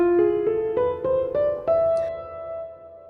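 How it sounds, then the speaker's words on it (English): A piano plays a Phrygian dominant scale, seven distinct notes rising stepwise at an even pace, the last one held and ringing out, solo without any talking. "But one that is very interesting is the Phrygian dominant, which sounds like this."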